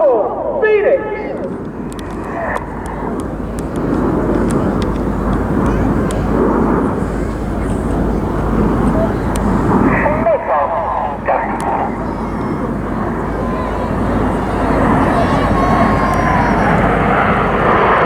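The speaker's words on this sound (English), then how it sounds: "all the aircraft start to move up alongside Red 1, and Red 6 and 7 split towards the rear" Red Arrows aerobatic jets in formation passing over Southport Airshow 2024, a loud continuous roar of engines that swells and fades across the whole stretch, with an announcer's voice talking over the noise throughout.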